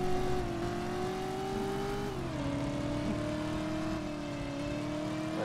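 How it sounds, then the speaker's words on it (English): A video game car engine drones steadily, then its pitch drops sharply as it lets off. The engine settles into a lower, faint steady whine with no talking. "There's my car letting off again"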